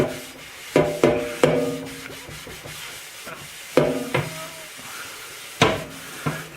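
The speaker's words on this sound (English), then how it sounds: "So I'm just going to clean this out and start over, re-seasoning the pan." A stainless steel frying pan gets scrubbed out: irregular scraping and rubbing strokes, close and moderately loud, come in bursts separated by short quiet gaps.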